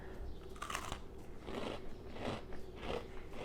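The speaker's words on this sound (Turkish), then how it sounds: "Kıtır kıtır eziyor." Crisp, crunchy bites and chewing of a giant chocolate chip cookie, several bursts of crackling spaced about a second apart, close and fairly loud with no talking.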